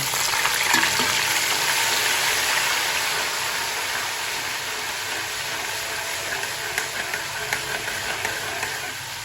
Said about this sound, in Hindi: इसमें घी को हम अच्छी तरह से गर्म करेंगे।